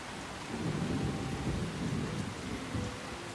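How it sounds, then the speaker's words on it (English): Soft, steady rainfall in the video game Shining Resonance Refrain, with a low rumble like distant thunder, continuous and fairly quiet. "A really pleasant rain sound, I gotta say."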